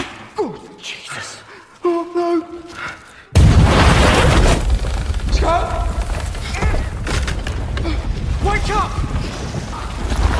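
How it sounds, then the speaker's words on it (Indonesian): A sudden loud, broadband explosion in a military film erupts after a quieter stretch with voices, then a sustained rumbling roar continues, with faint voices underneath. "ledakan itu membuat Scofield tertimbun reruntuhan"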